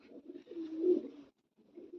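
A pigeon coos softly nearby, giving a low, warbling call that swells and then stops, with a brief pause before another quieter coo begins.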